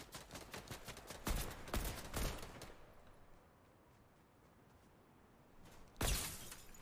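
Gunfire in the video game Fortnite: loud bursts of rapid shots in two clusters, a short quiet gap, then another sharp burst, with no talk over it.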